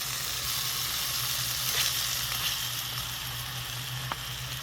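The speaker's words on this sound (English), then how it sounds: "Throw my onions in there after moving the beef to one side." Chopped onions sizzling in a pan pushed beside seasoned ground beef, a steady close frying crackle with a low background hum and a few sharper pops, no talking.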